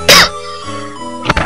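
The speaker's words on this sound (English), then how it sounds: "Sorry for all the coughing." Two sharp, close coughs from one person: a loud burst at the start and a shorter double cough near the end, with a quiet hum of background tones between them.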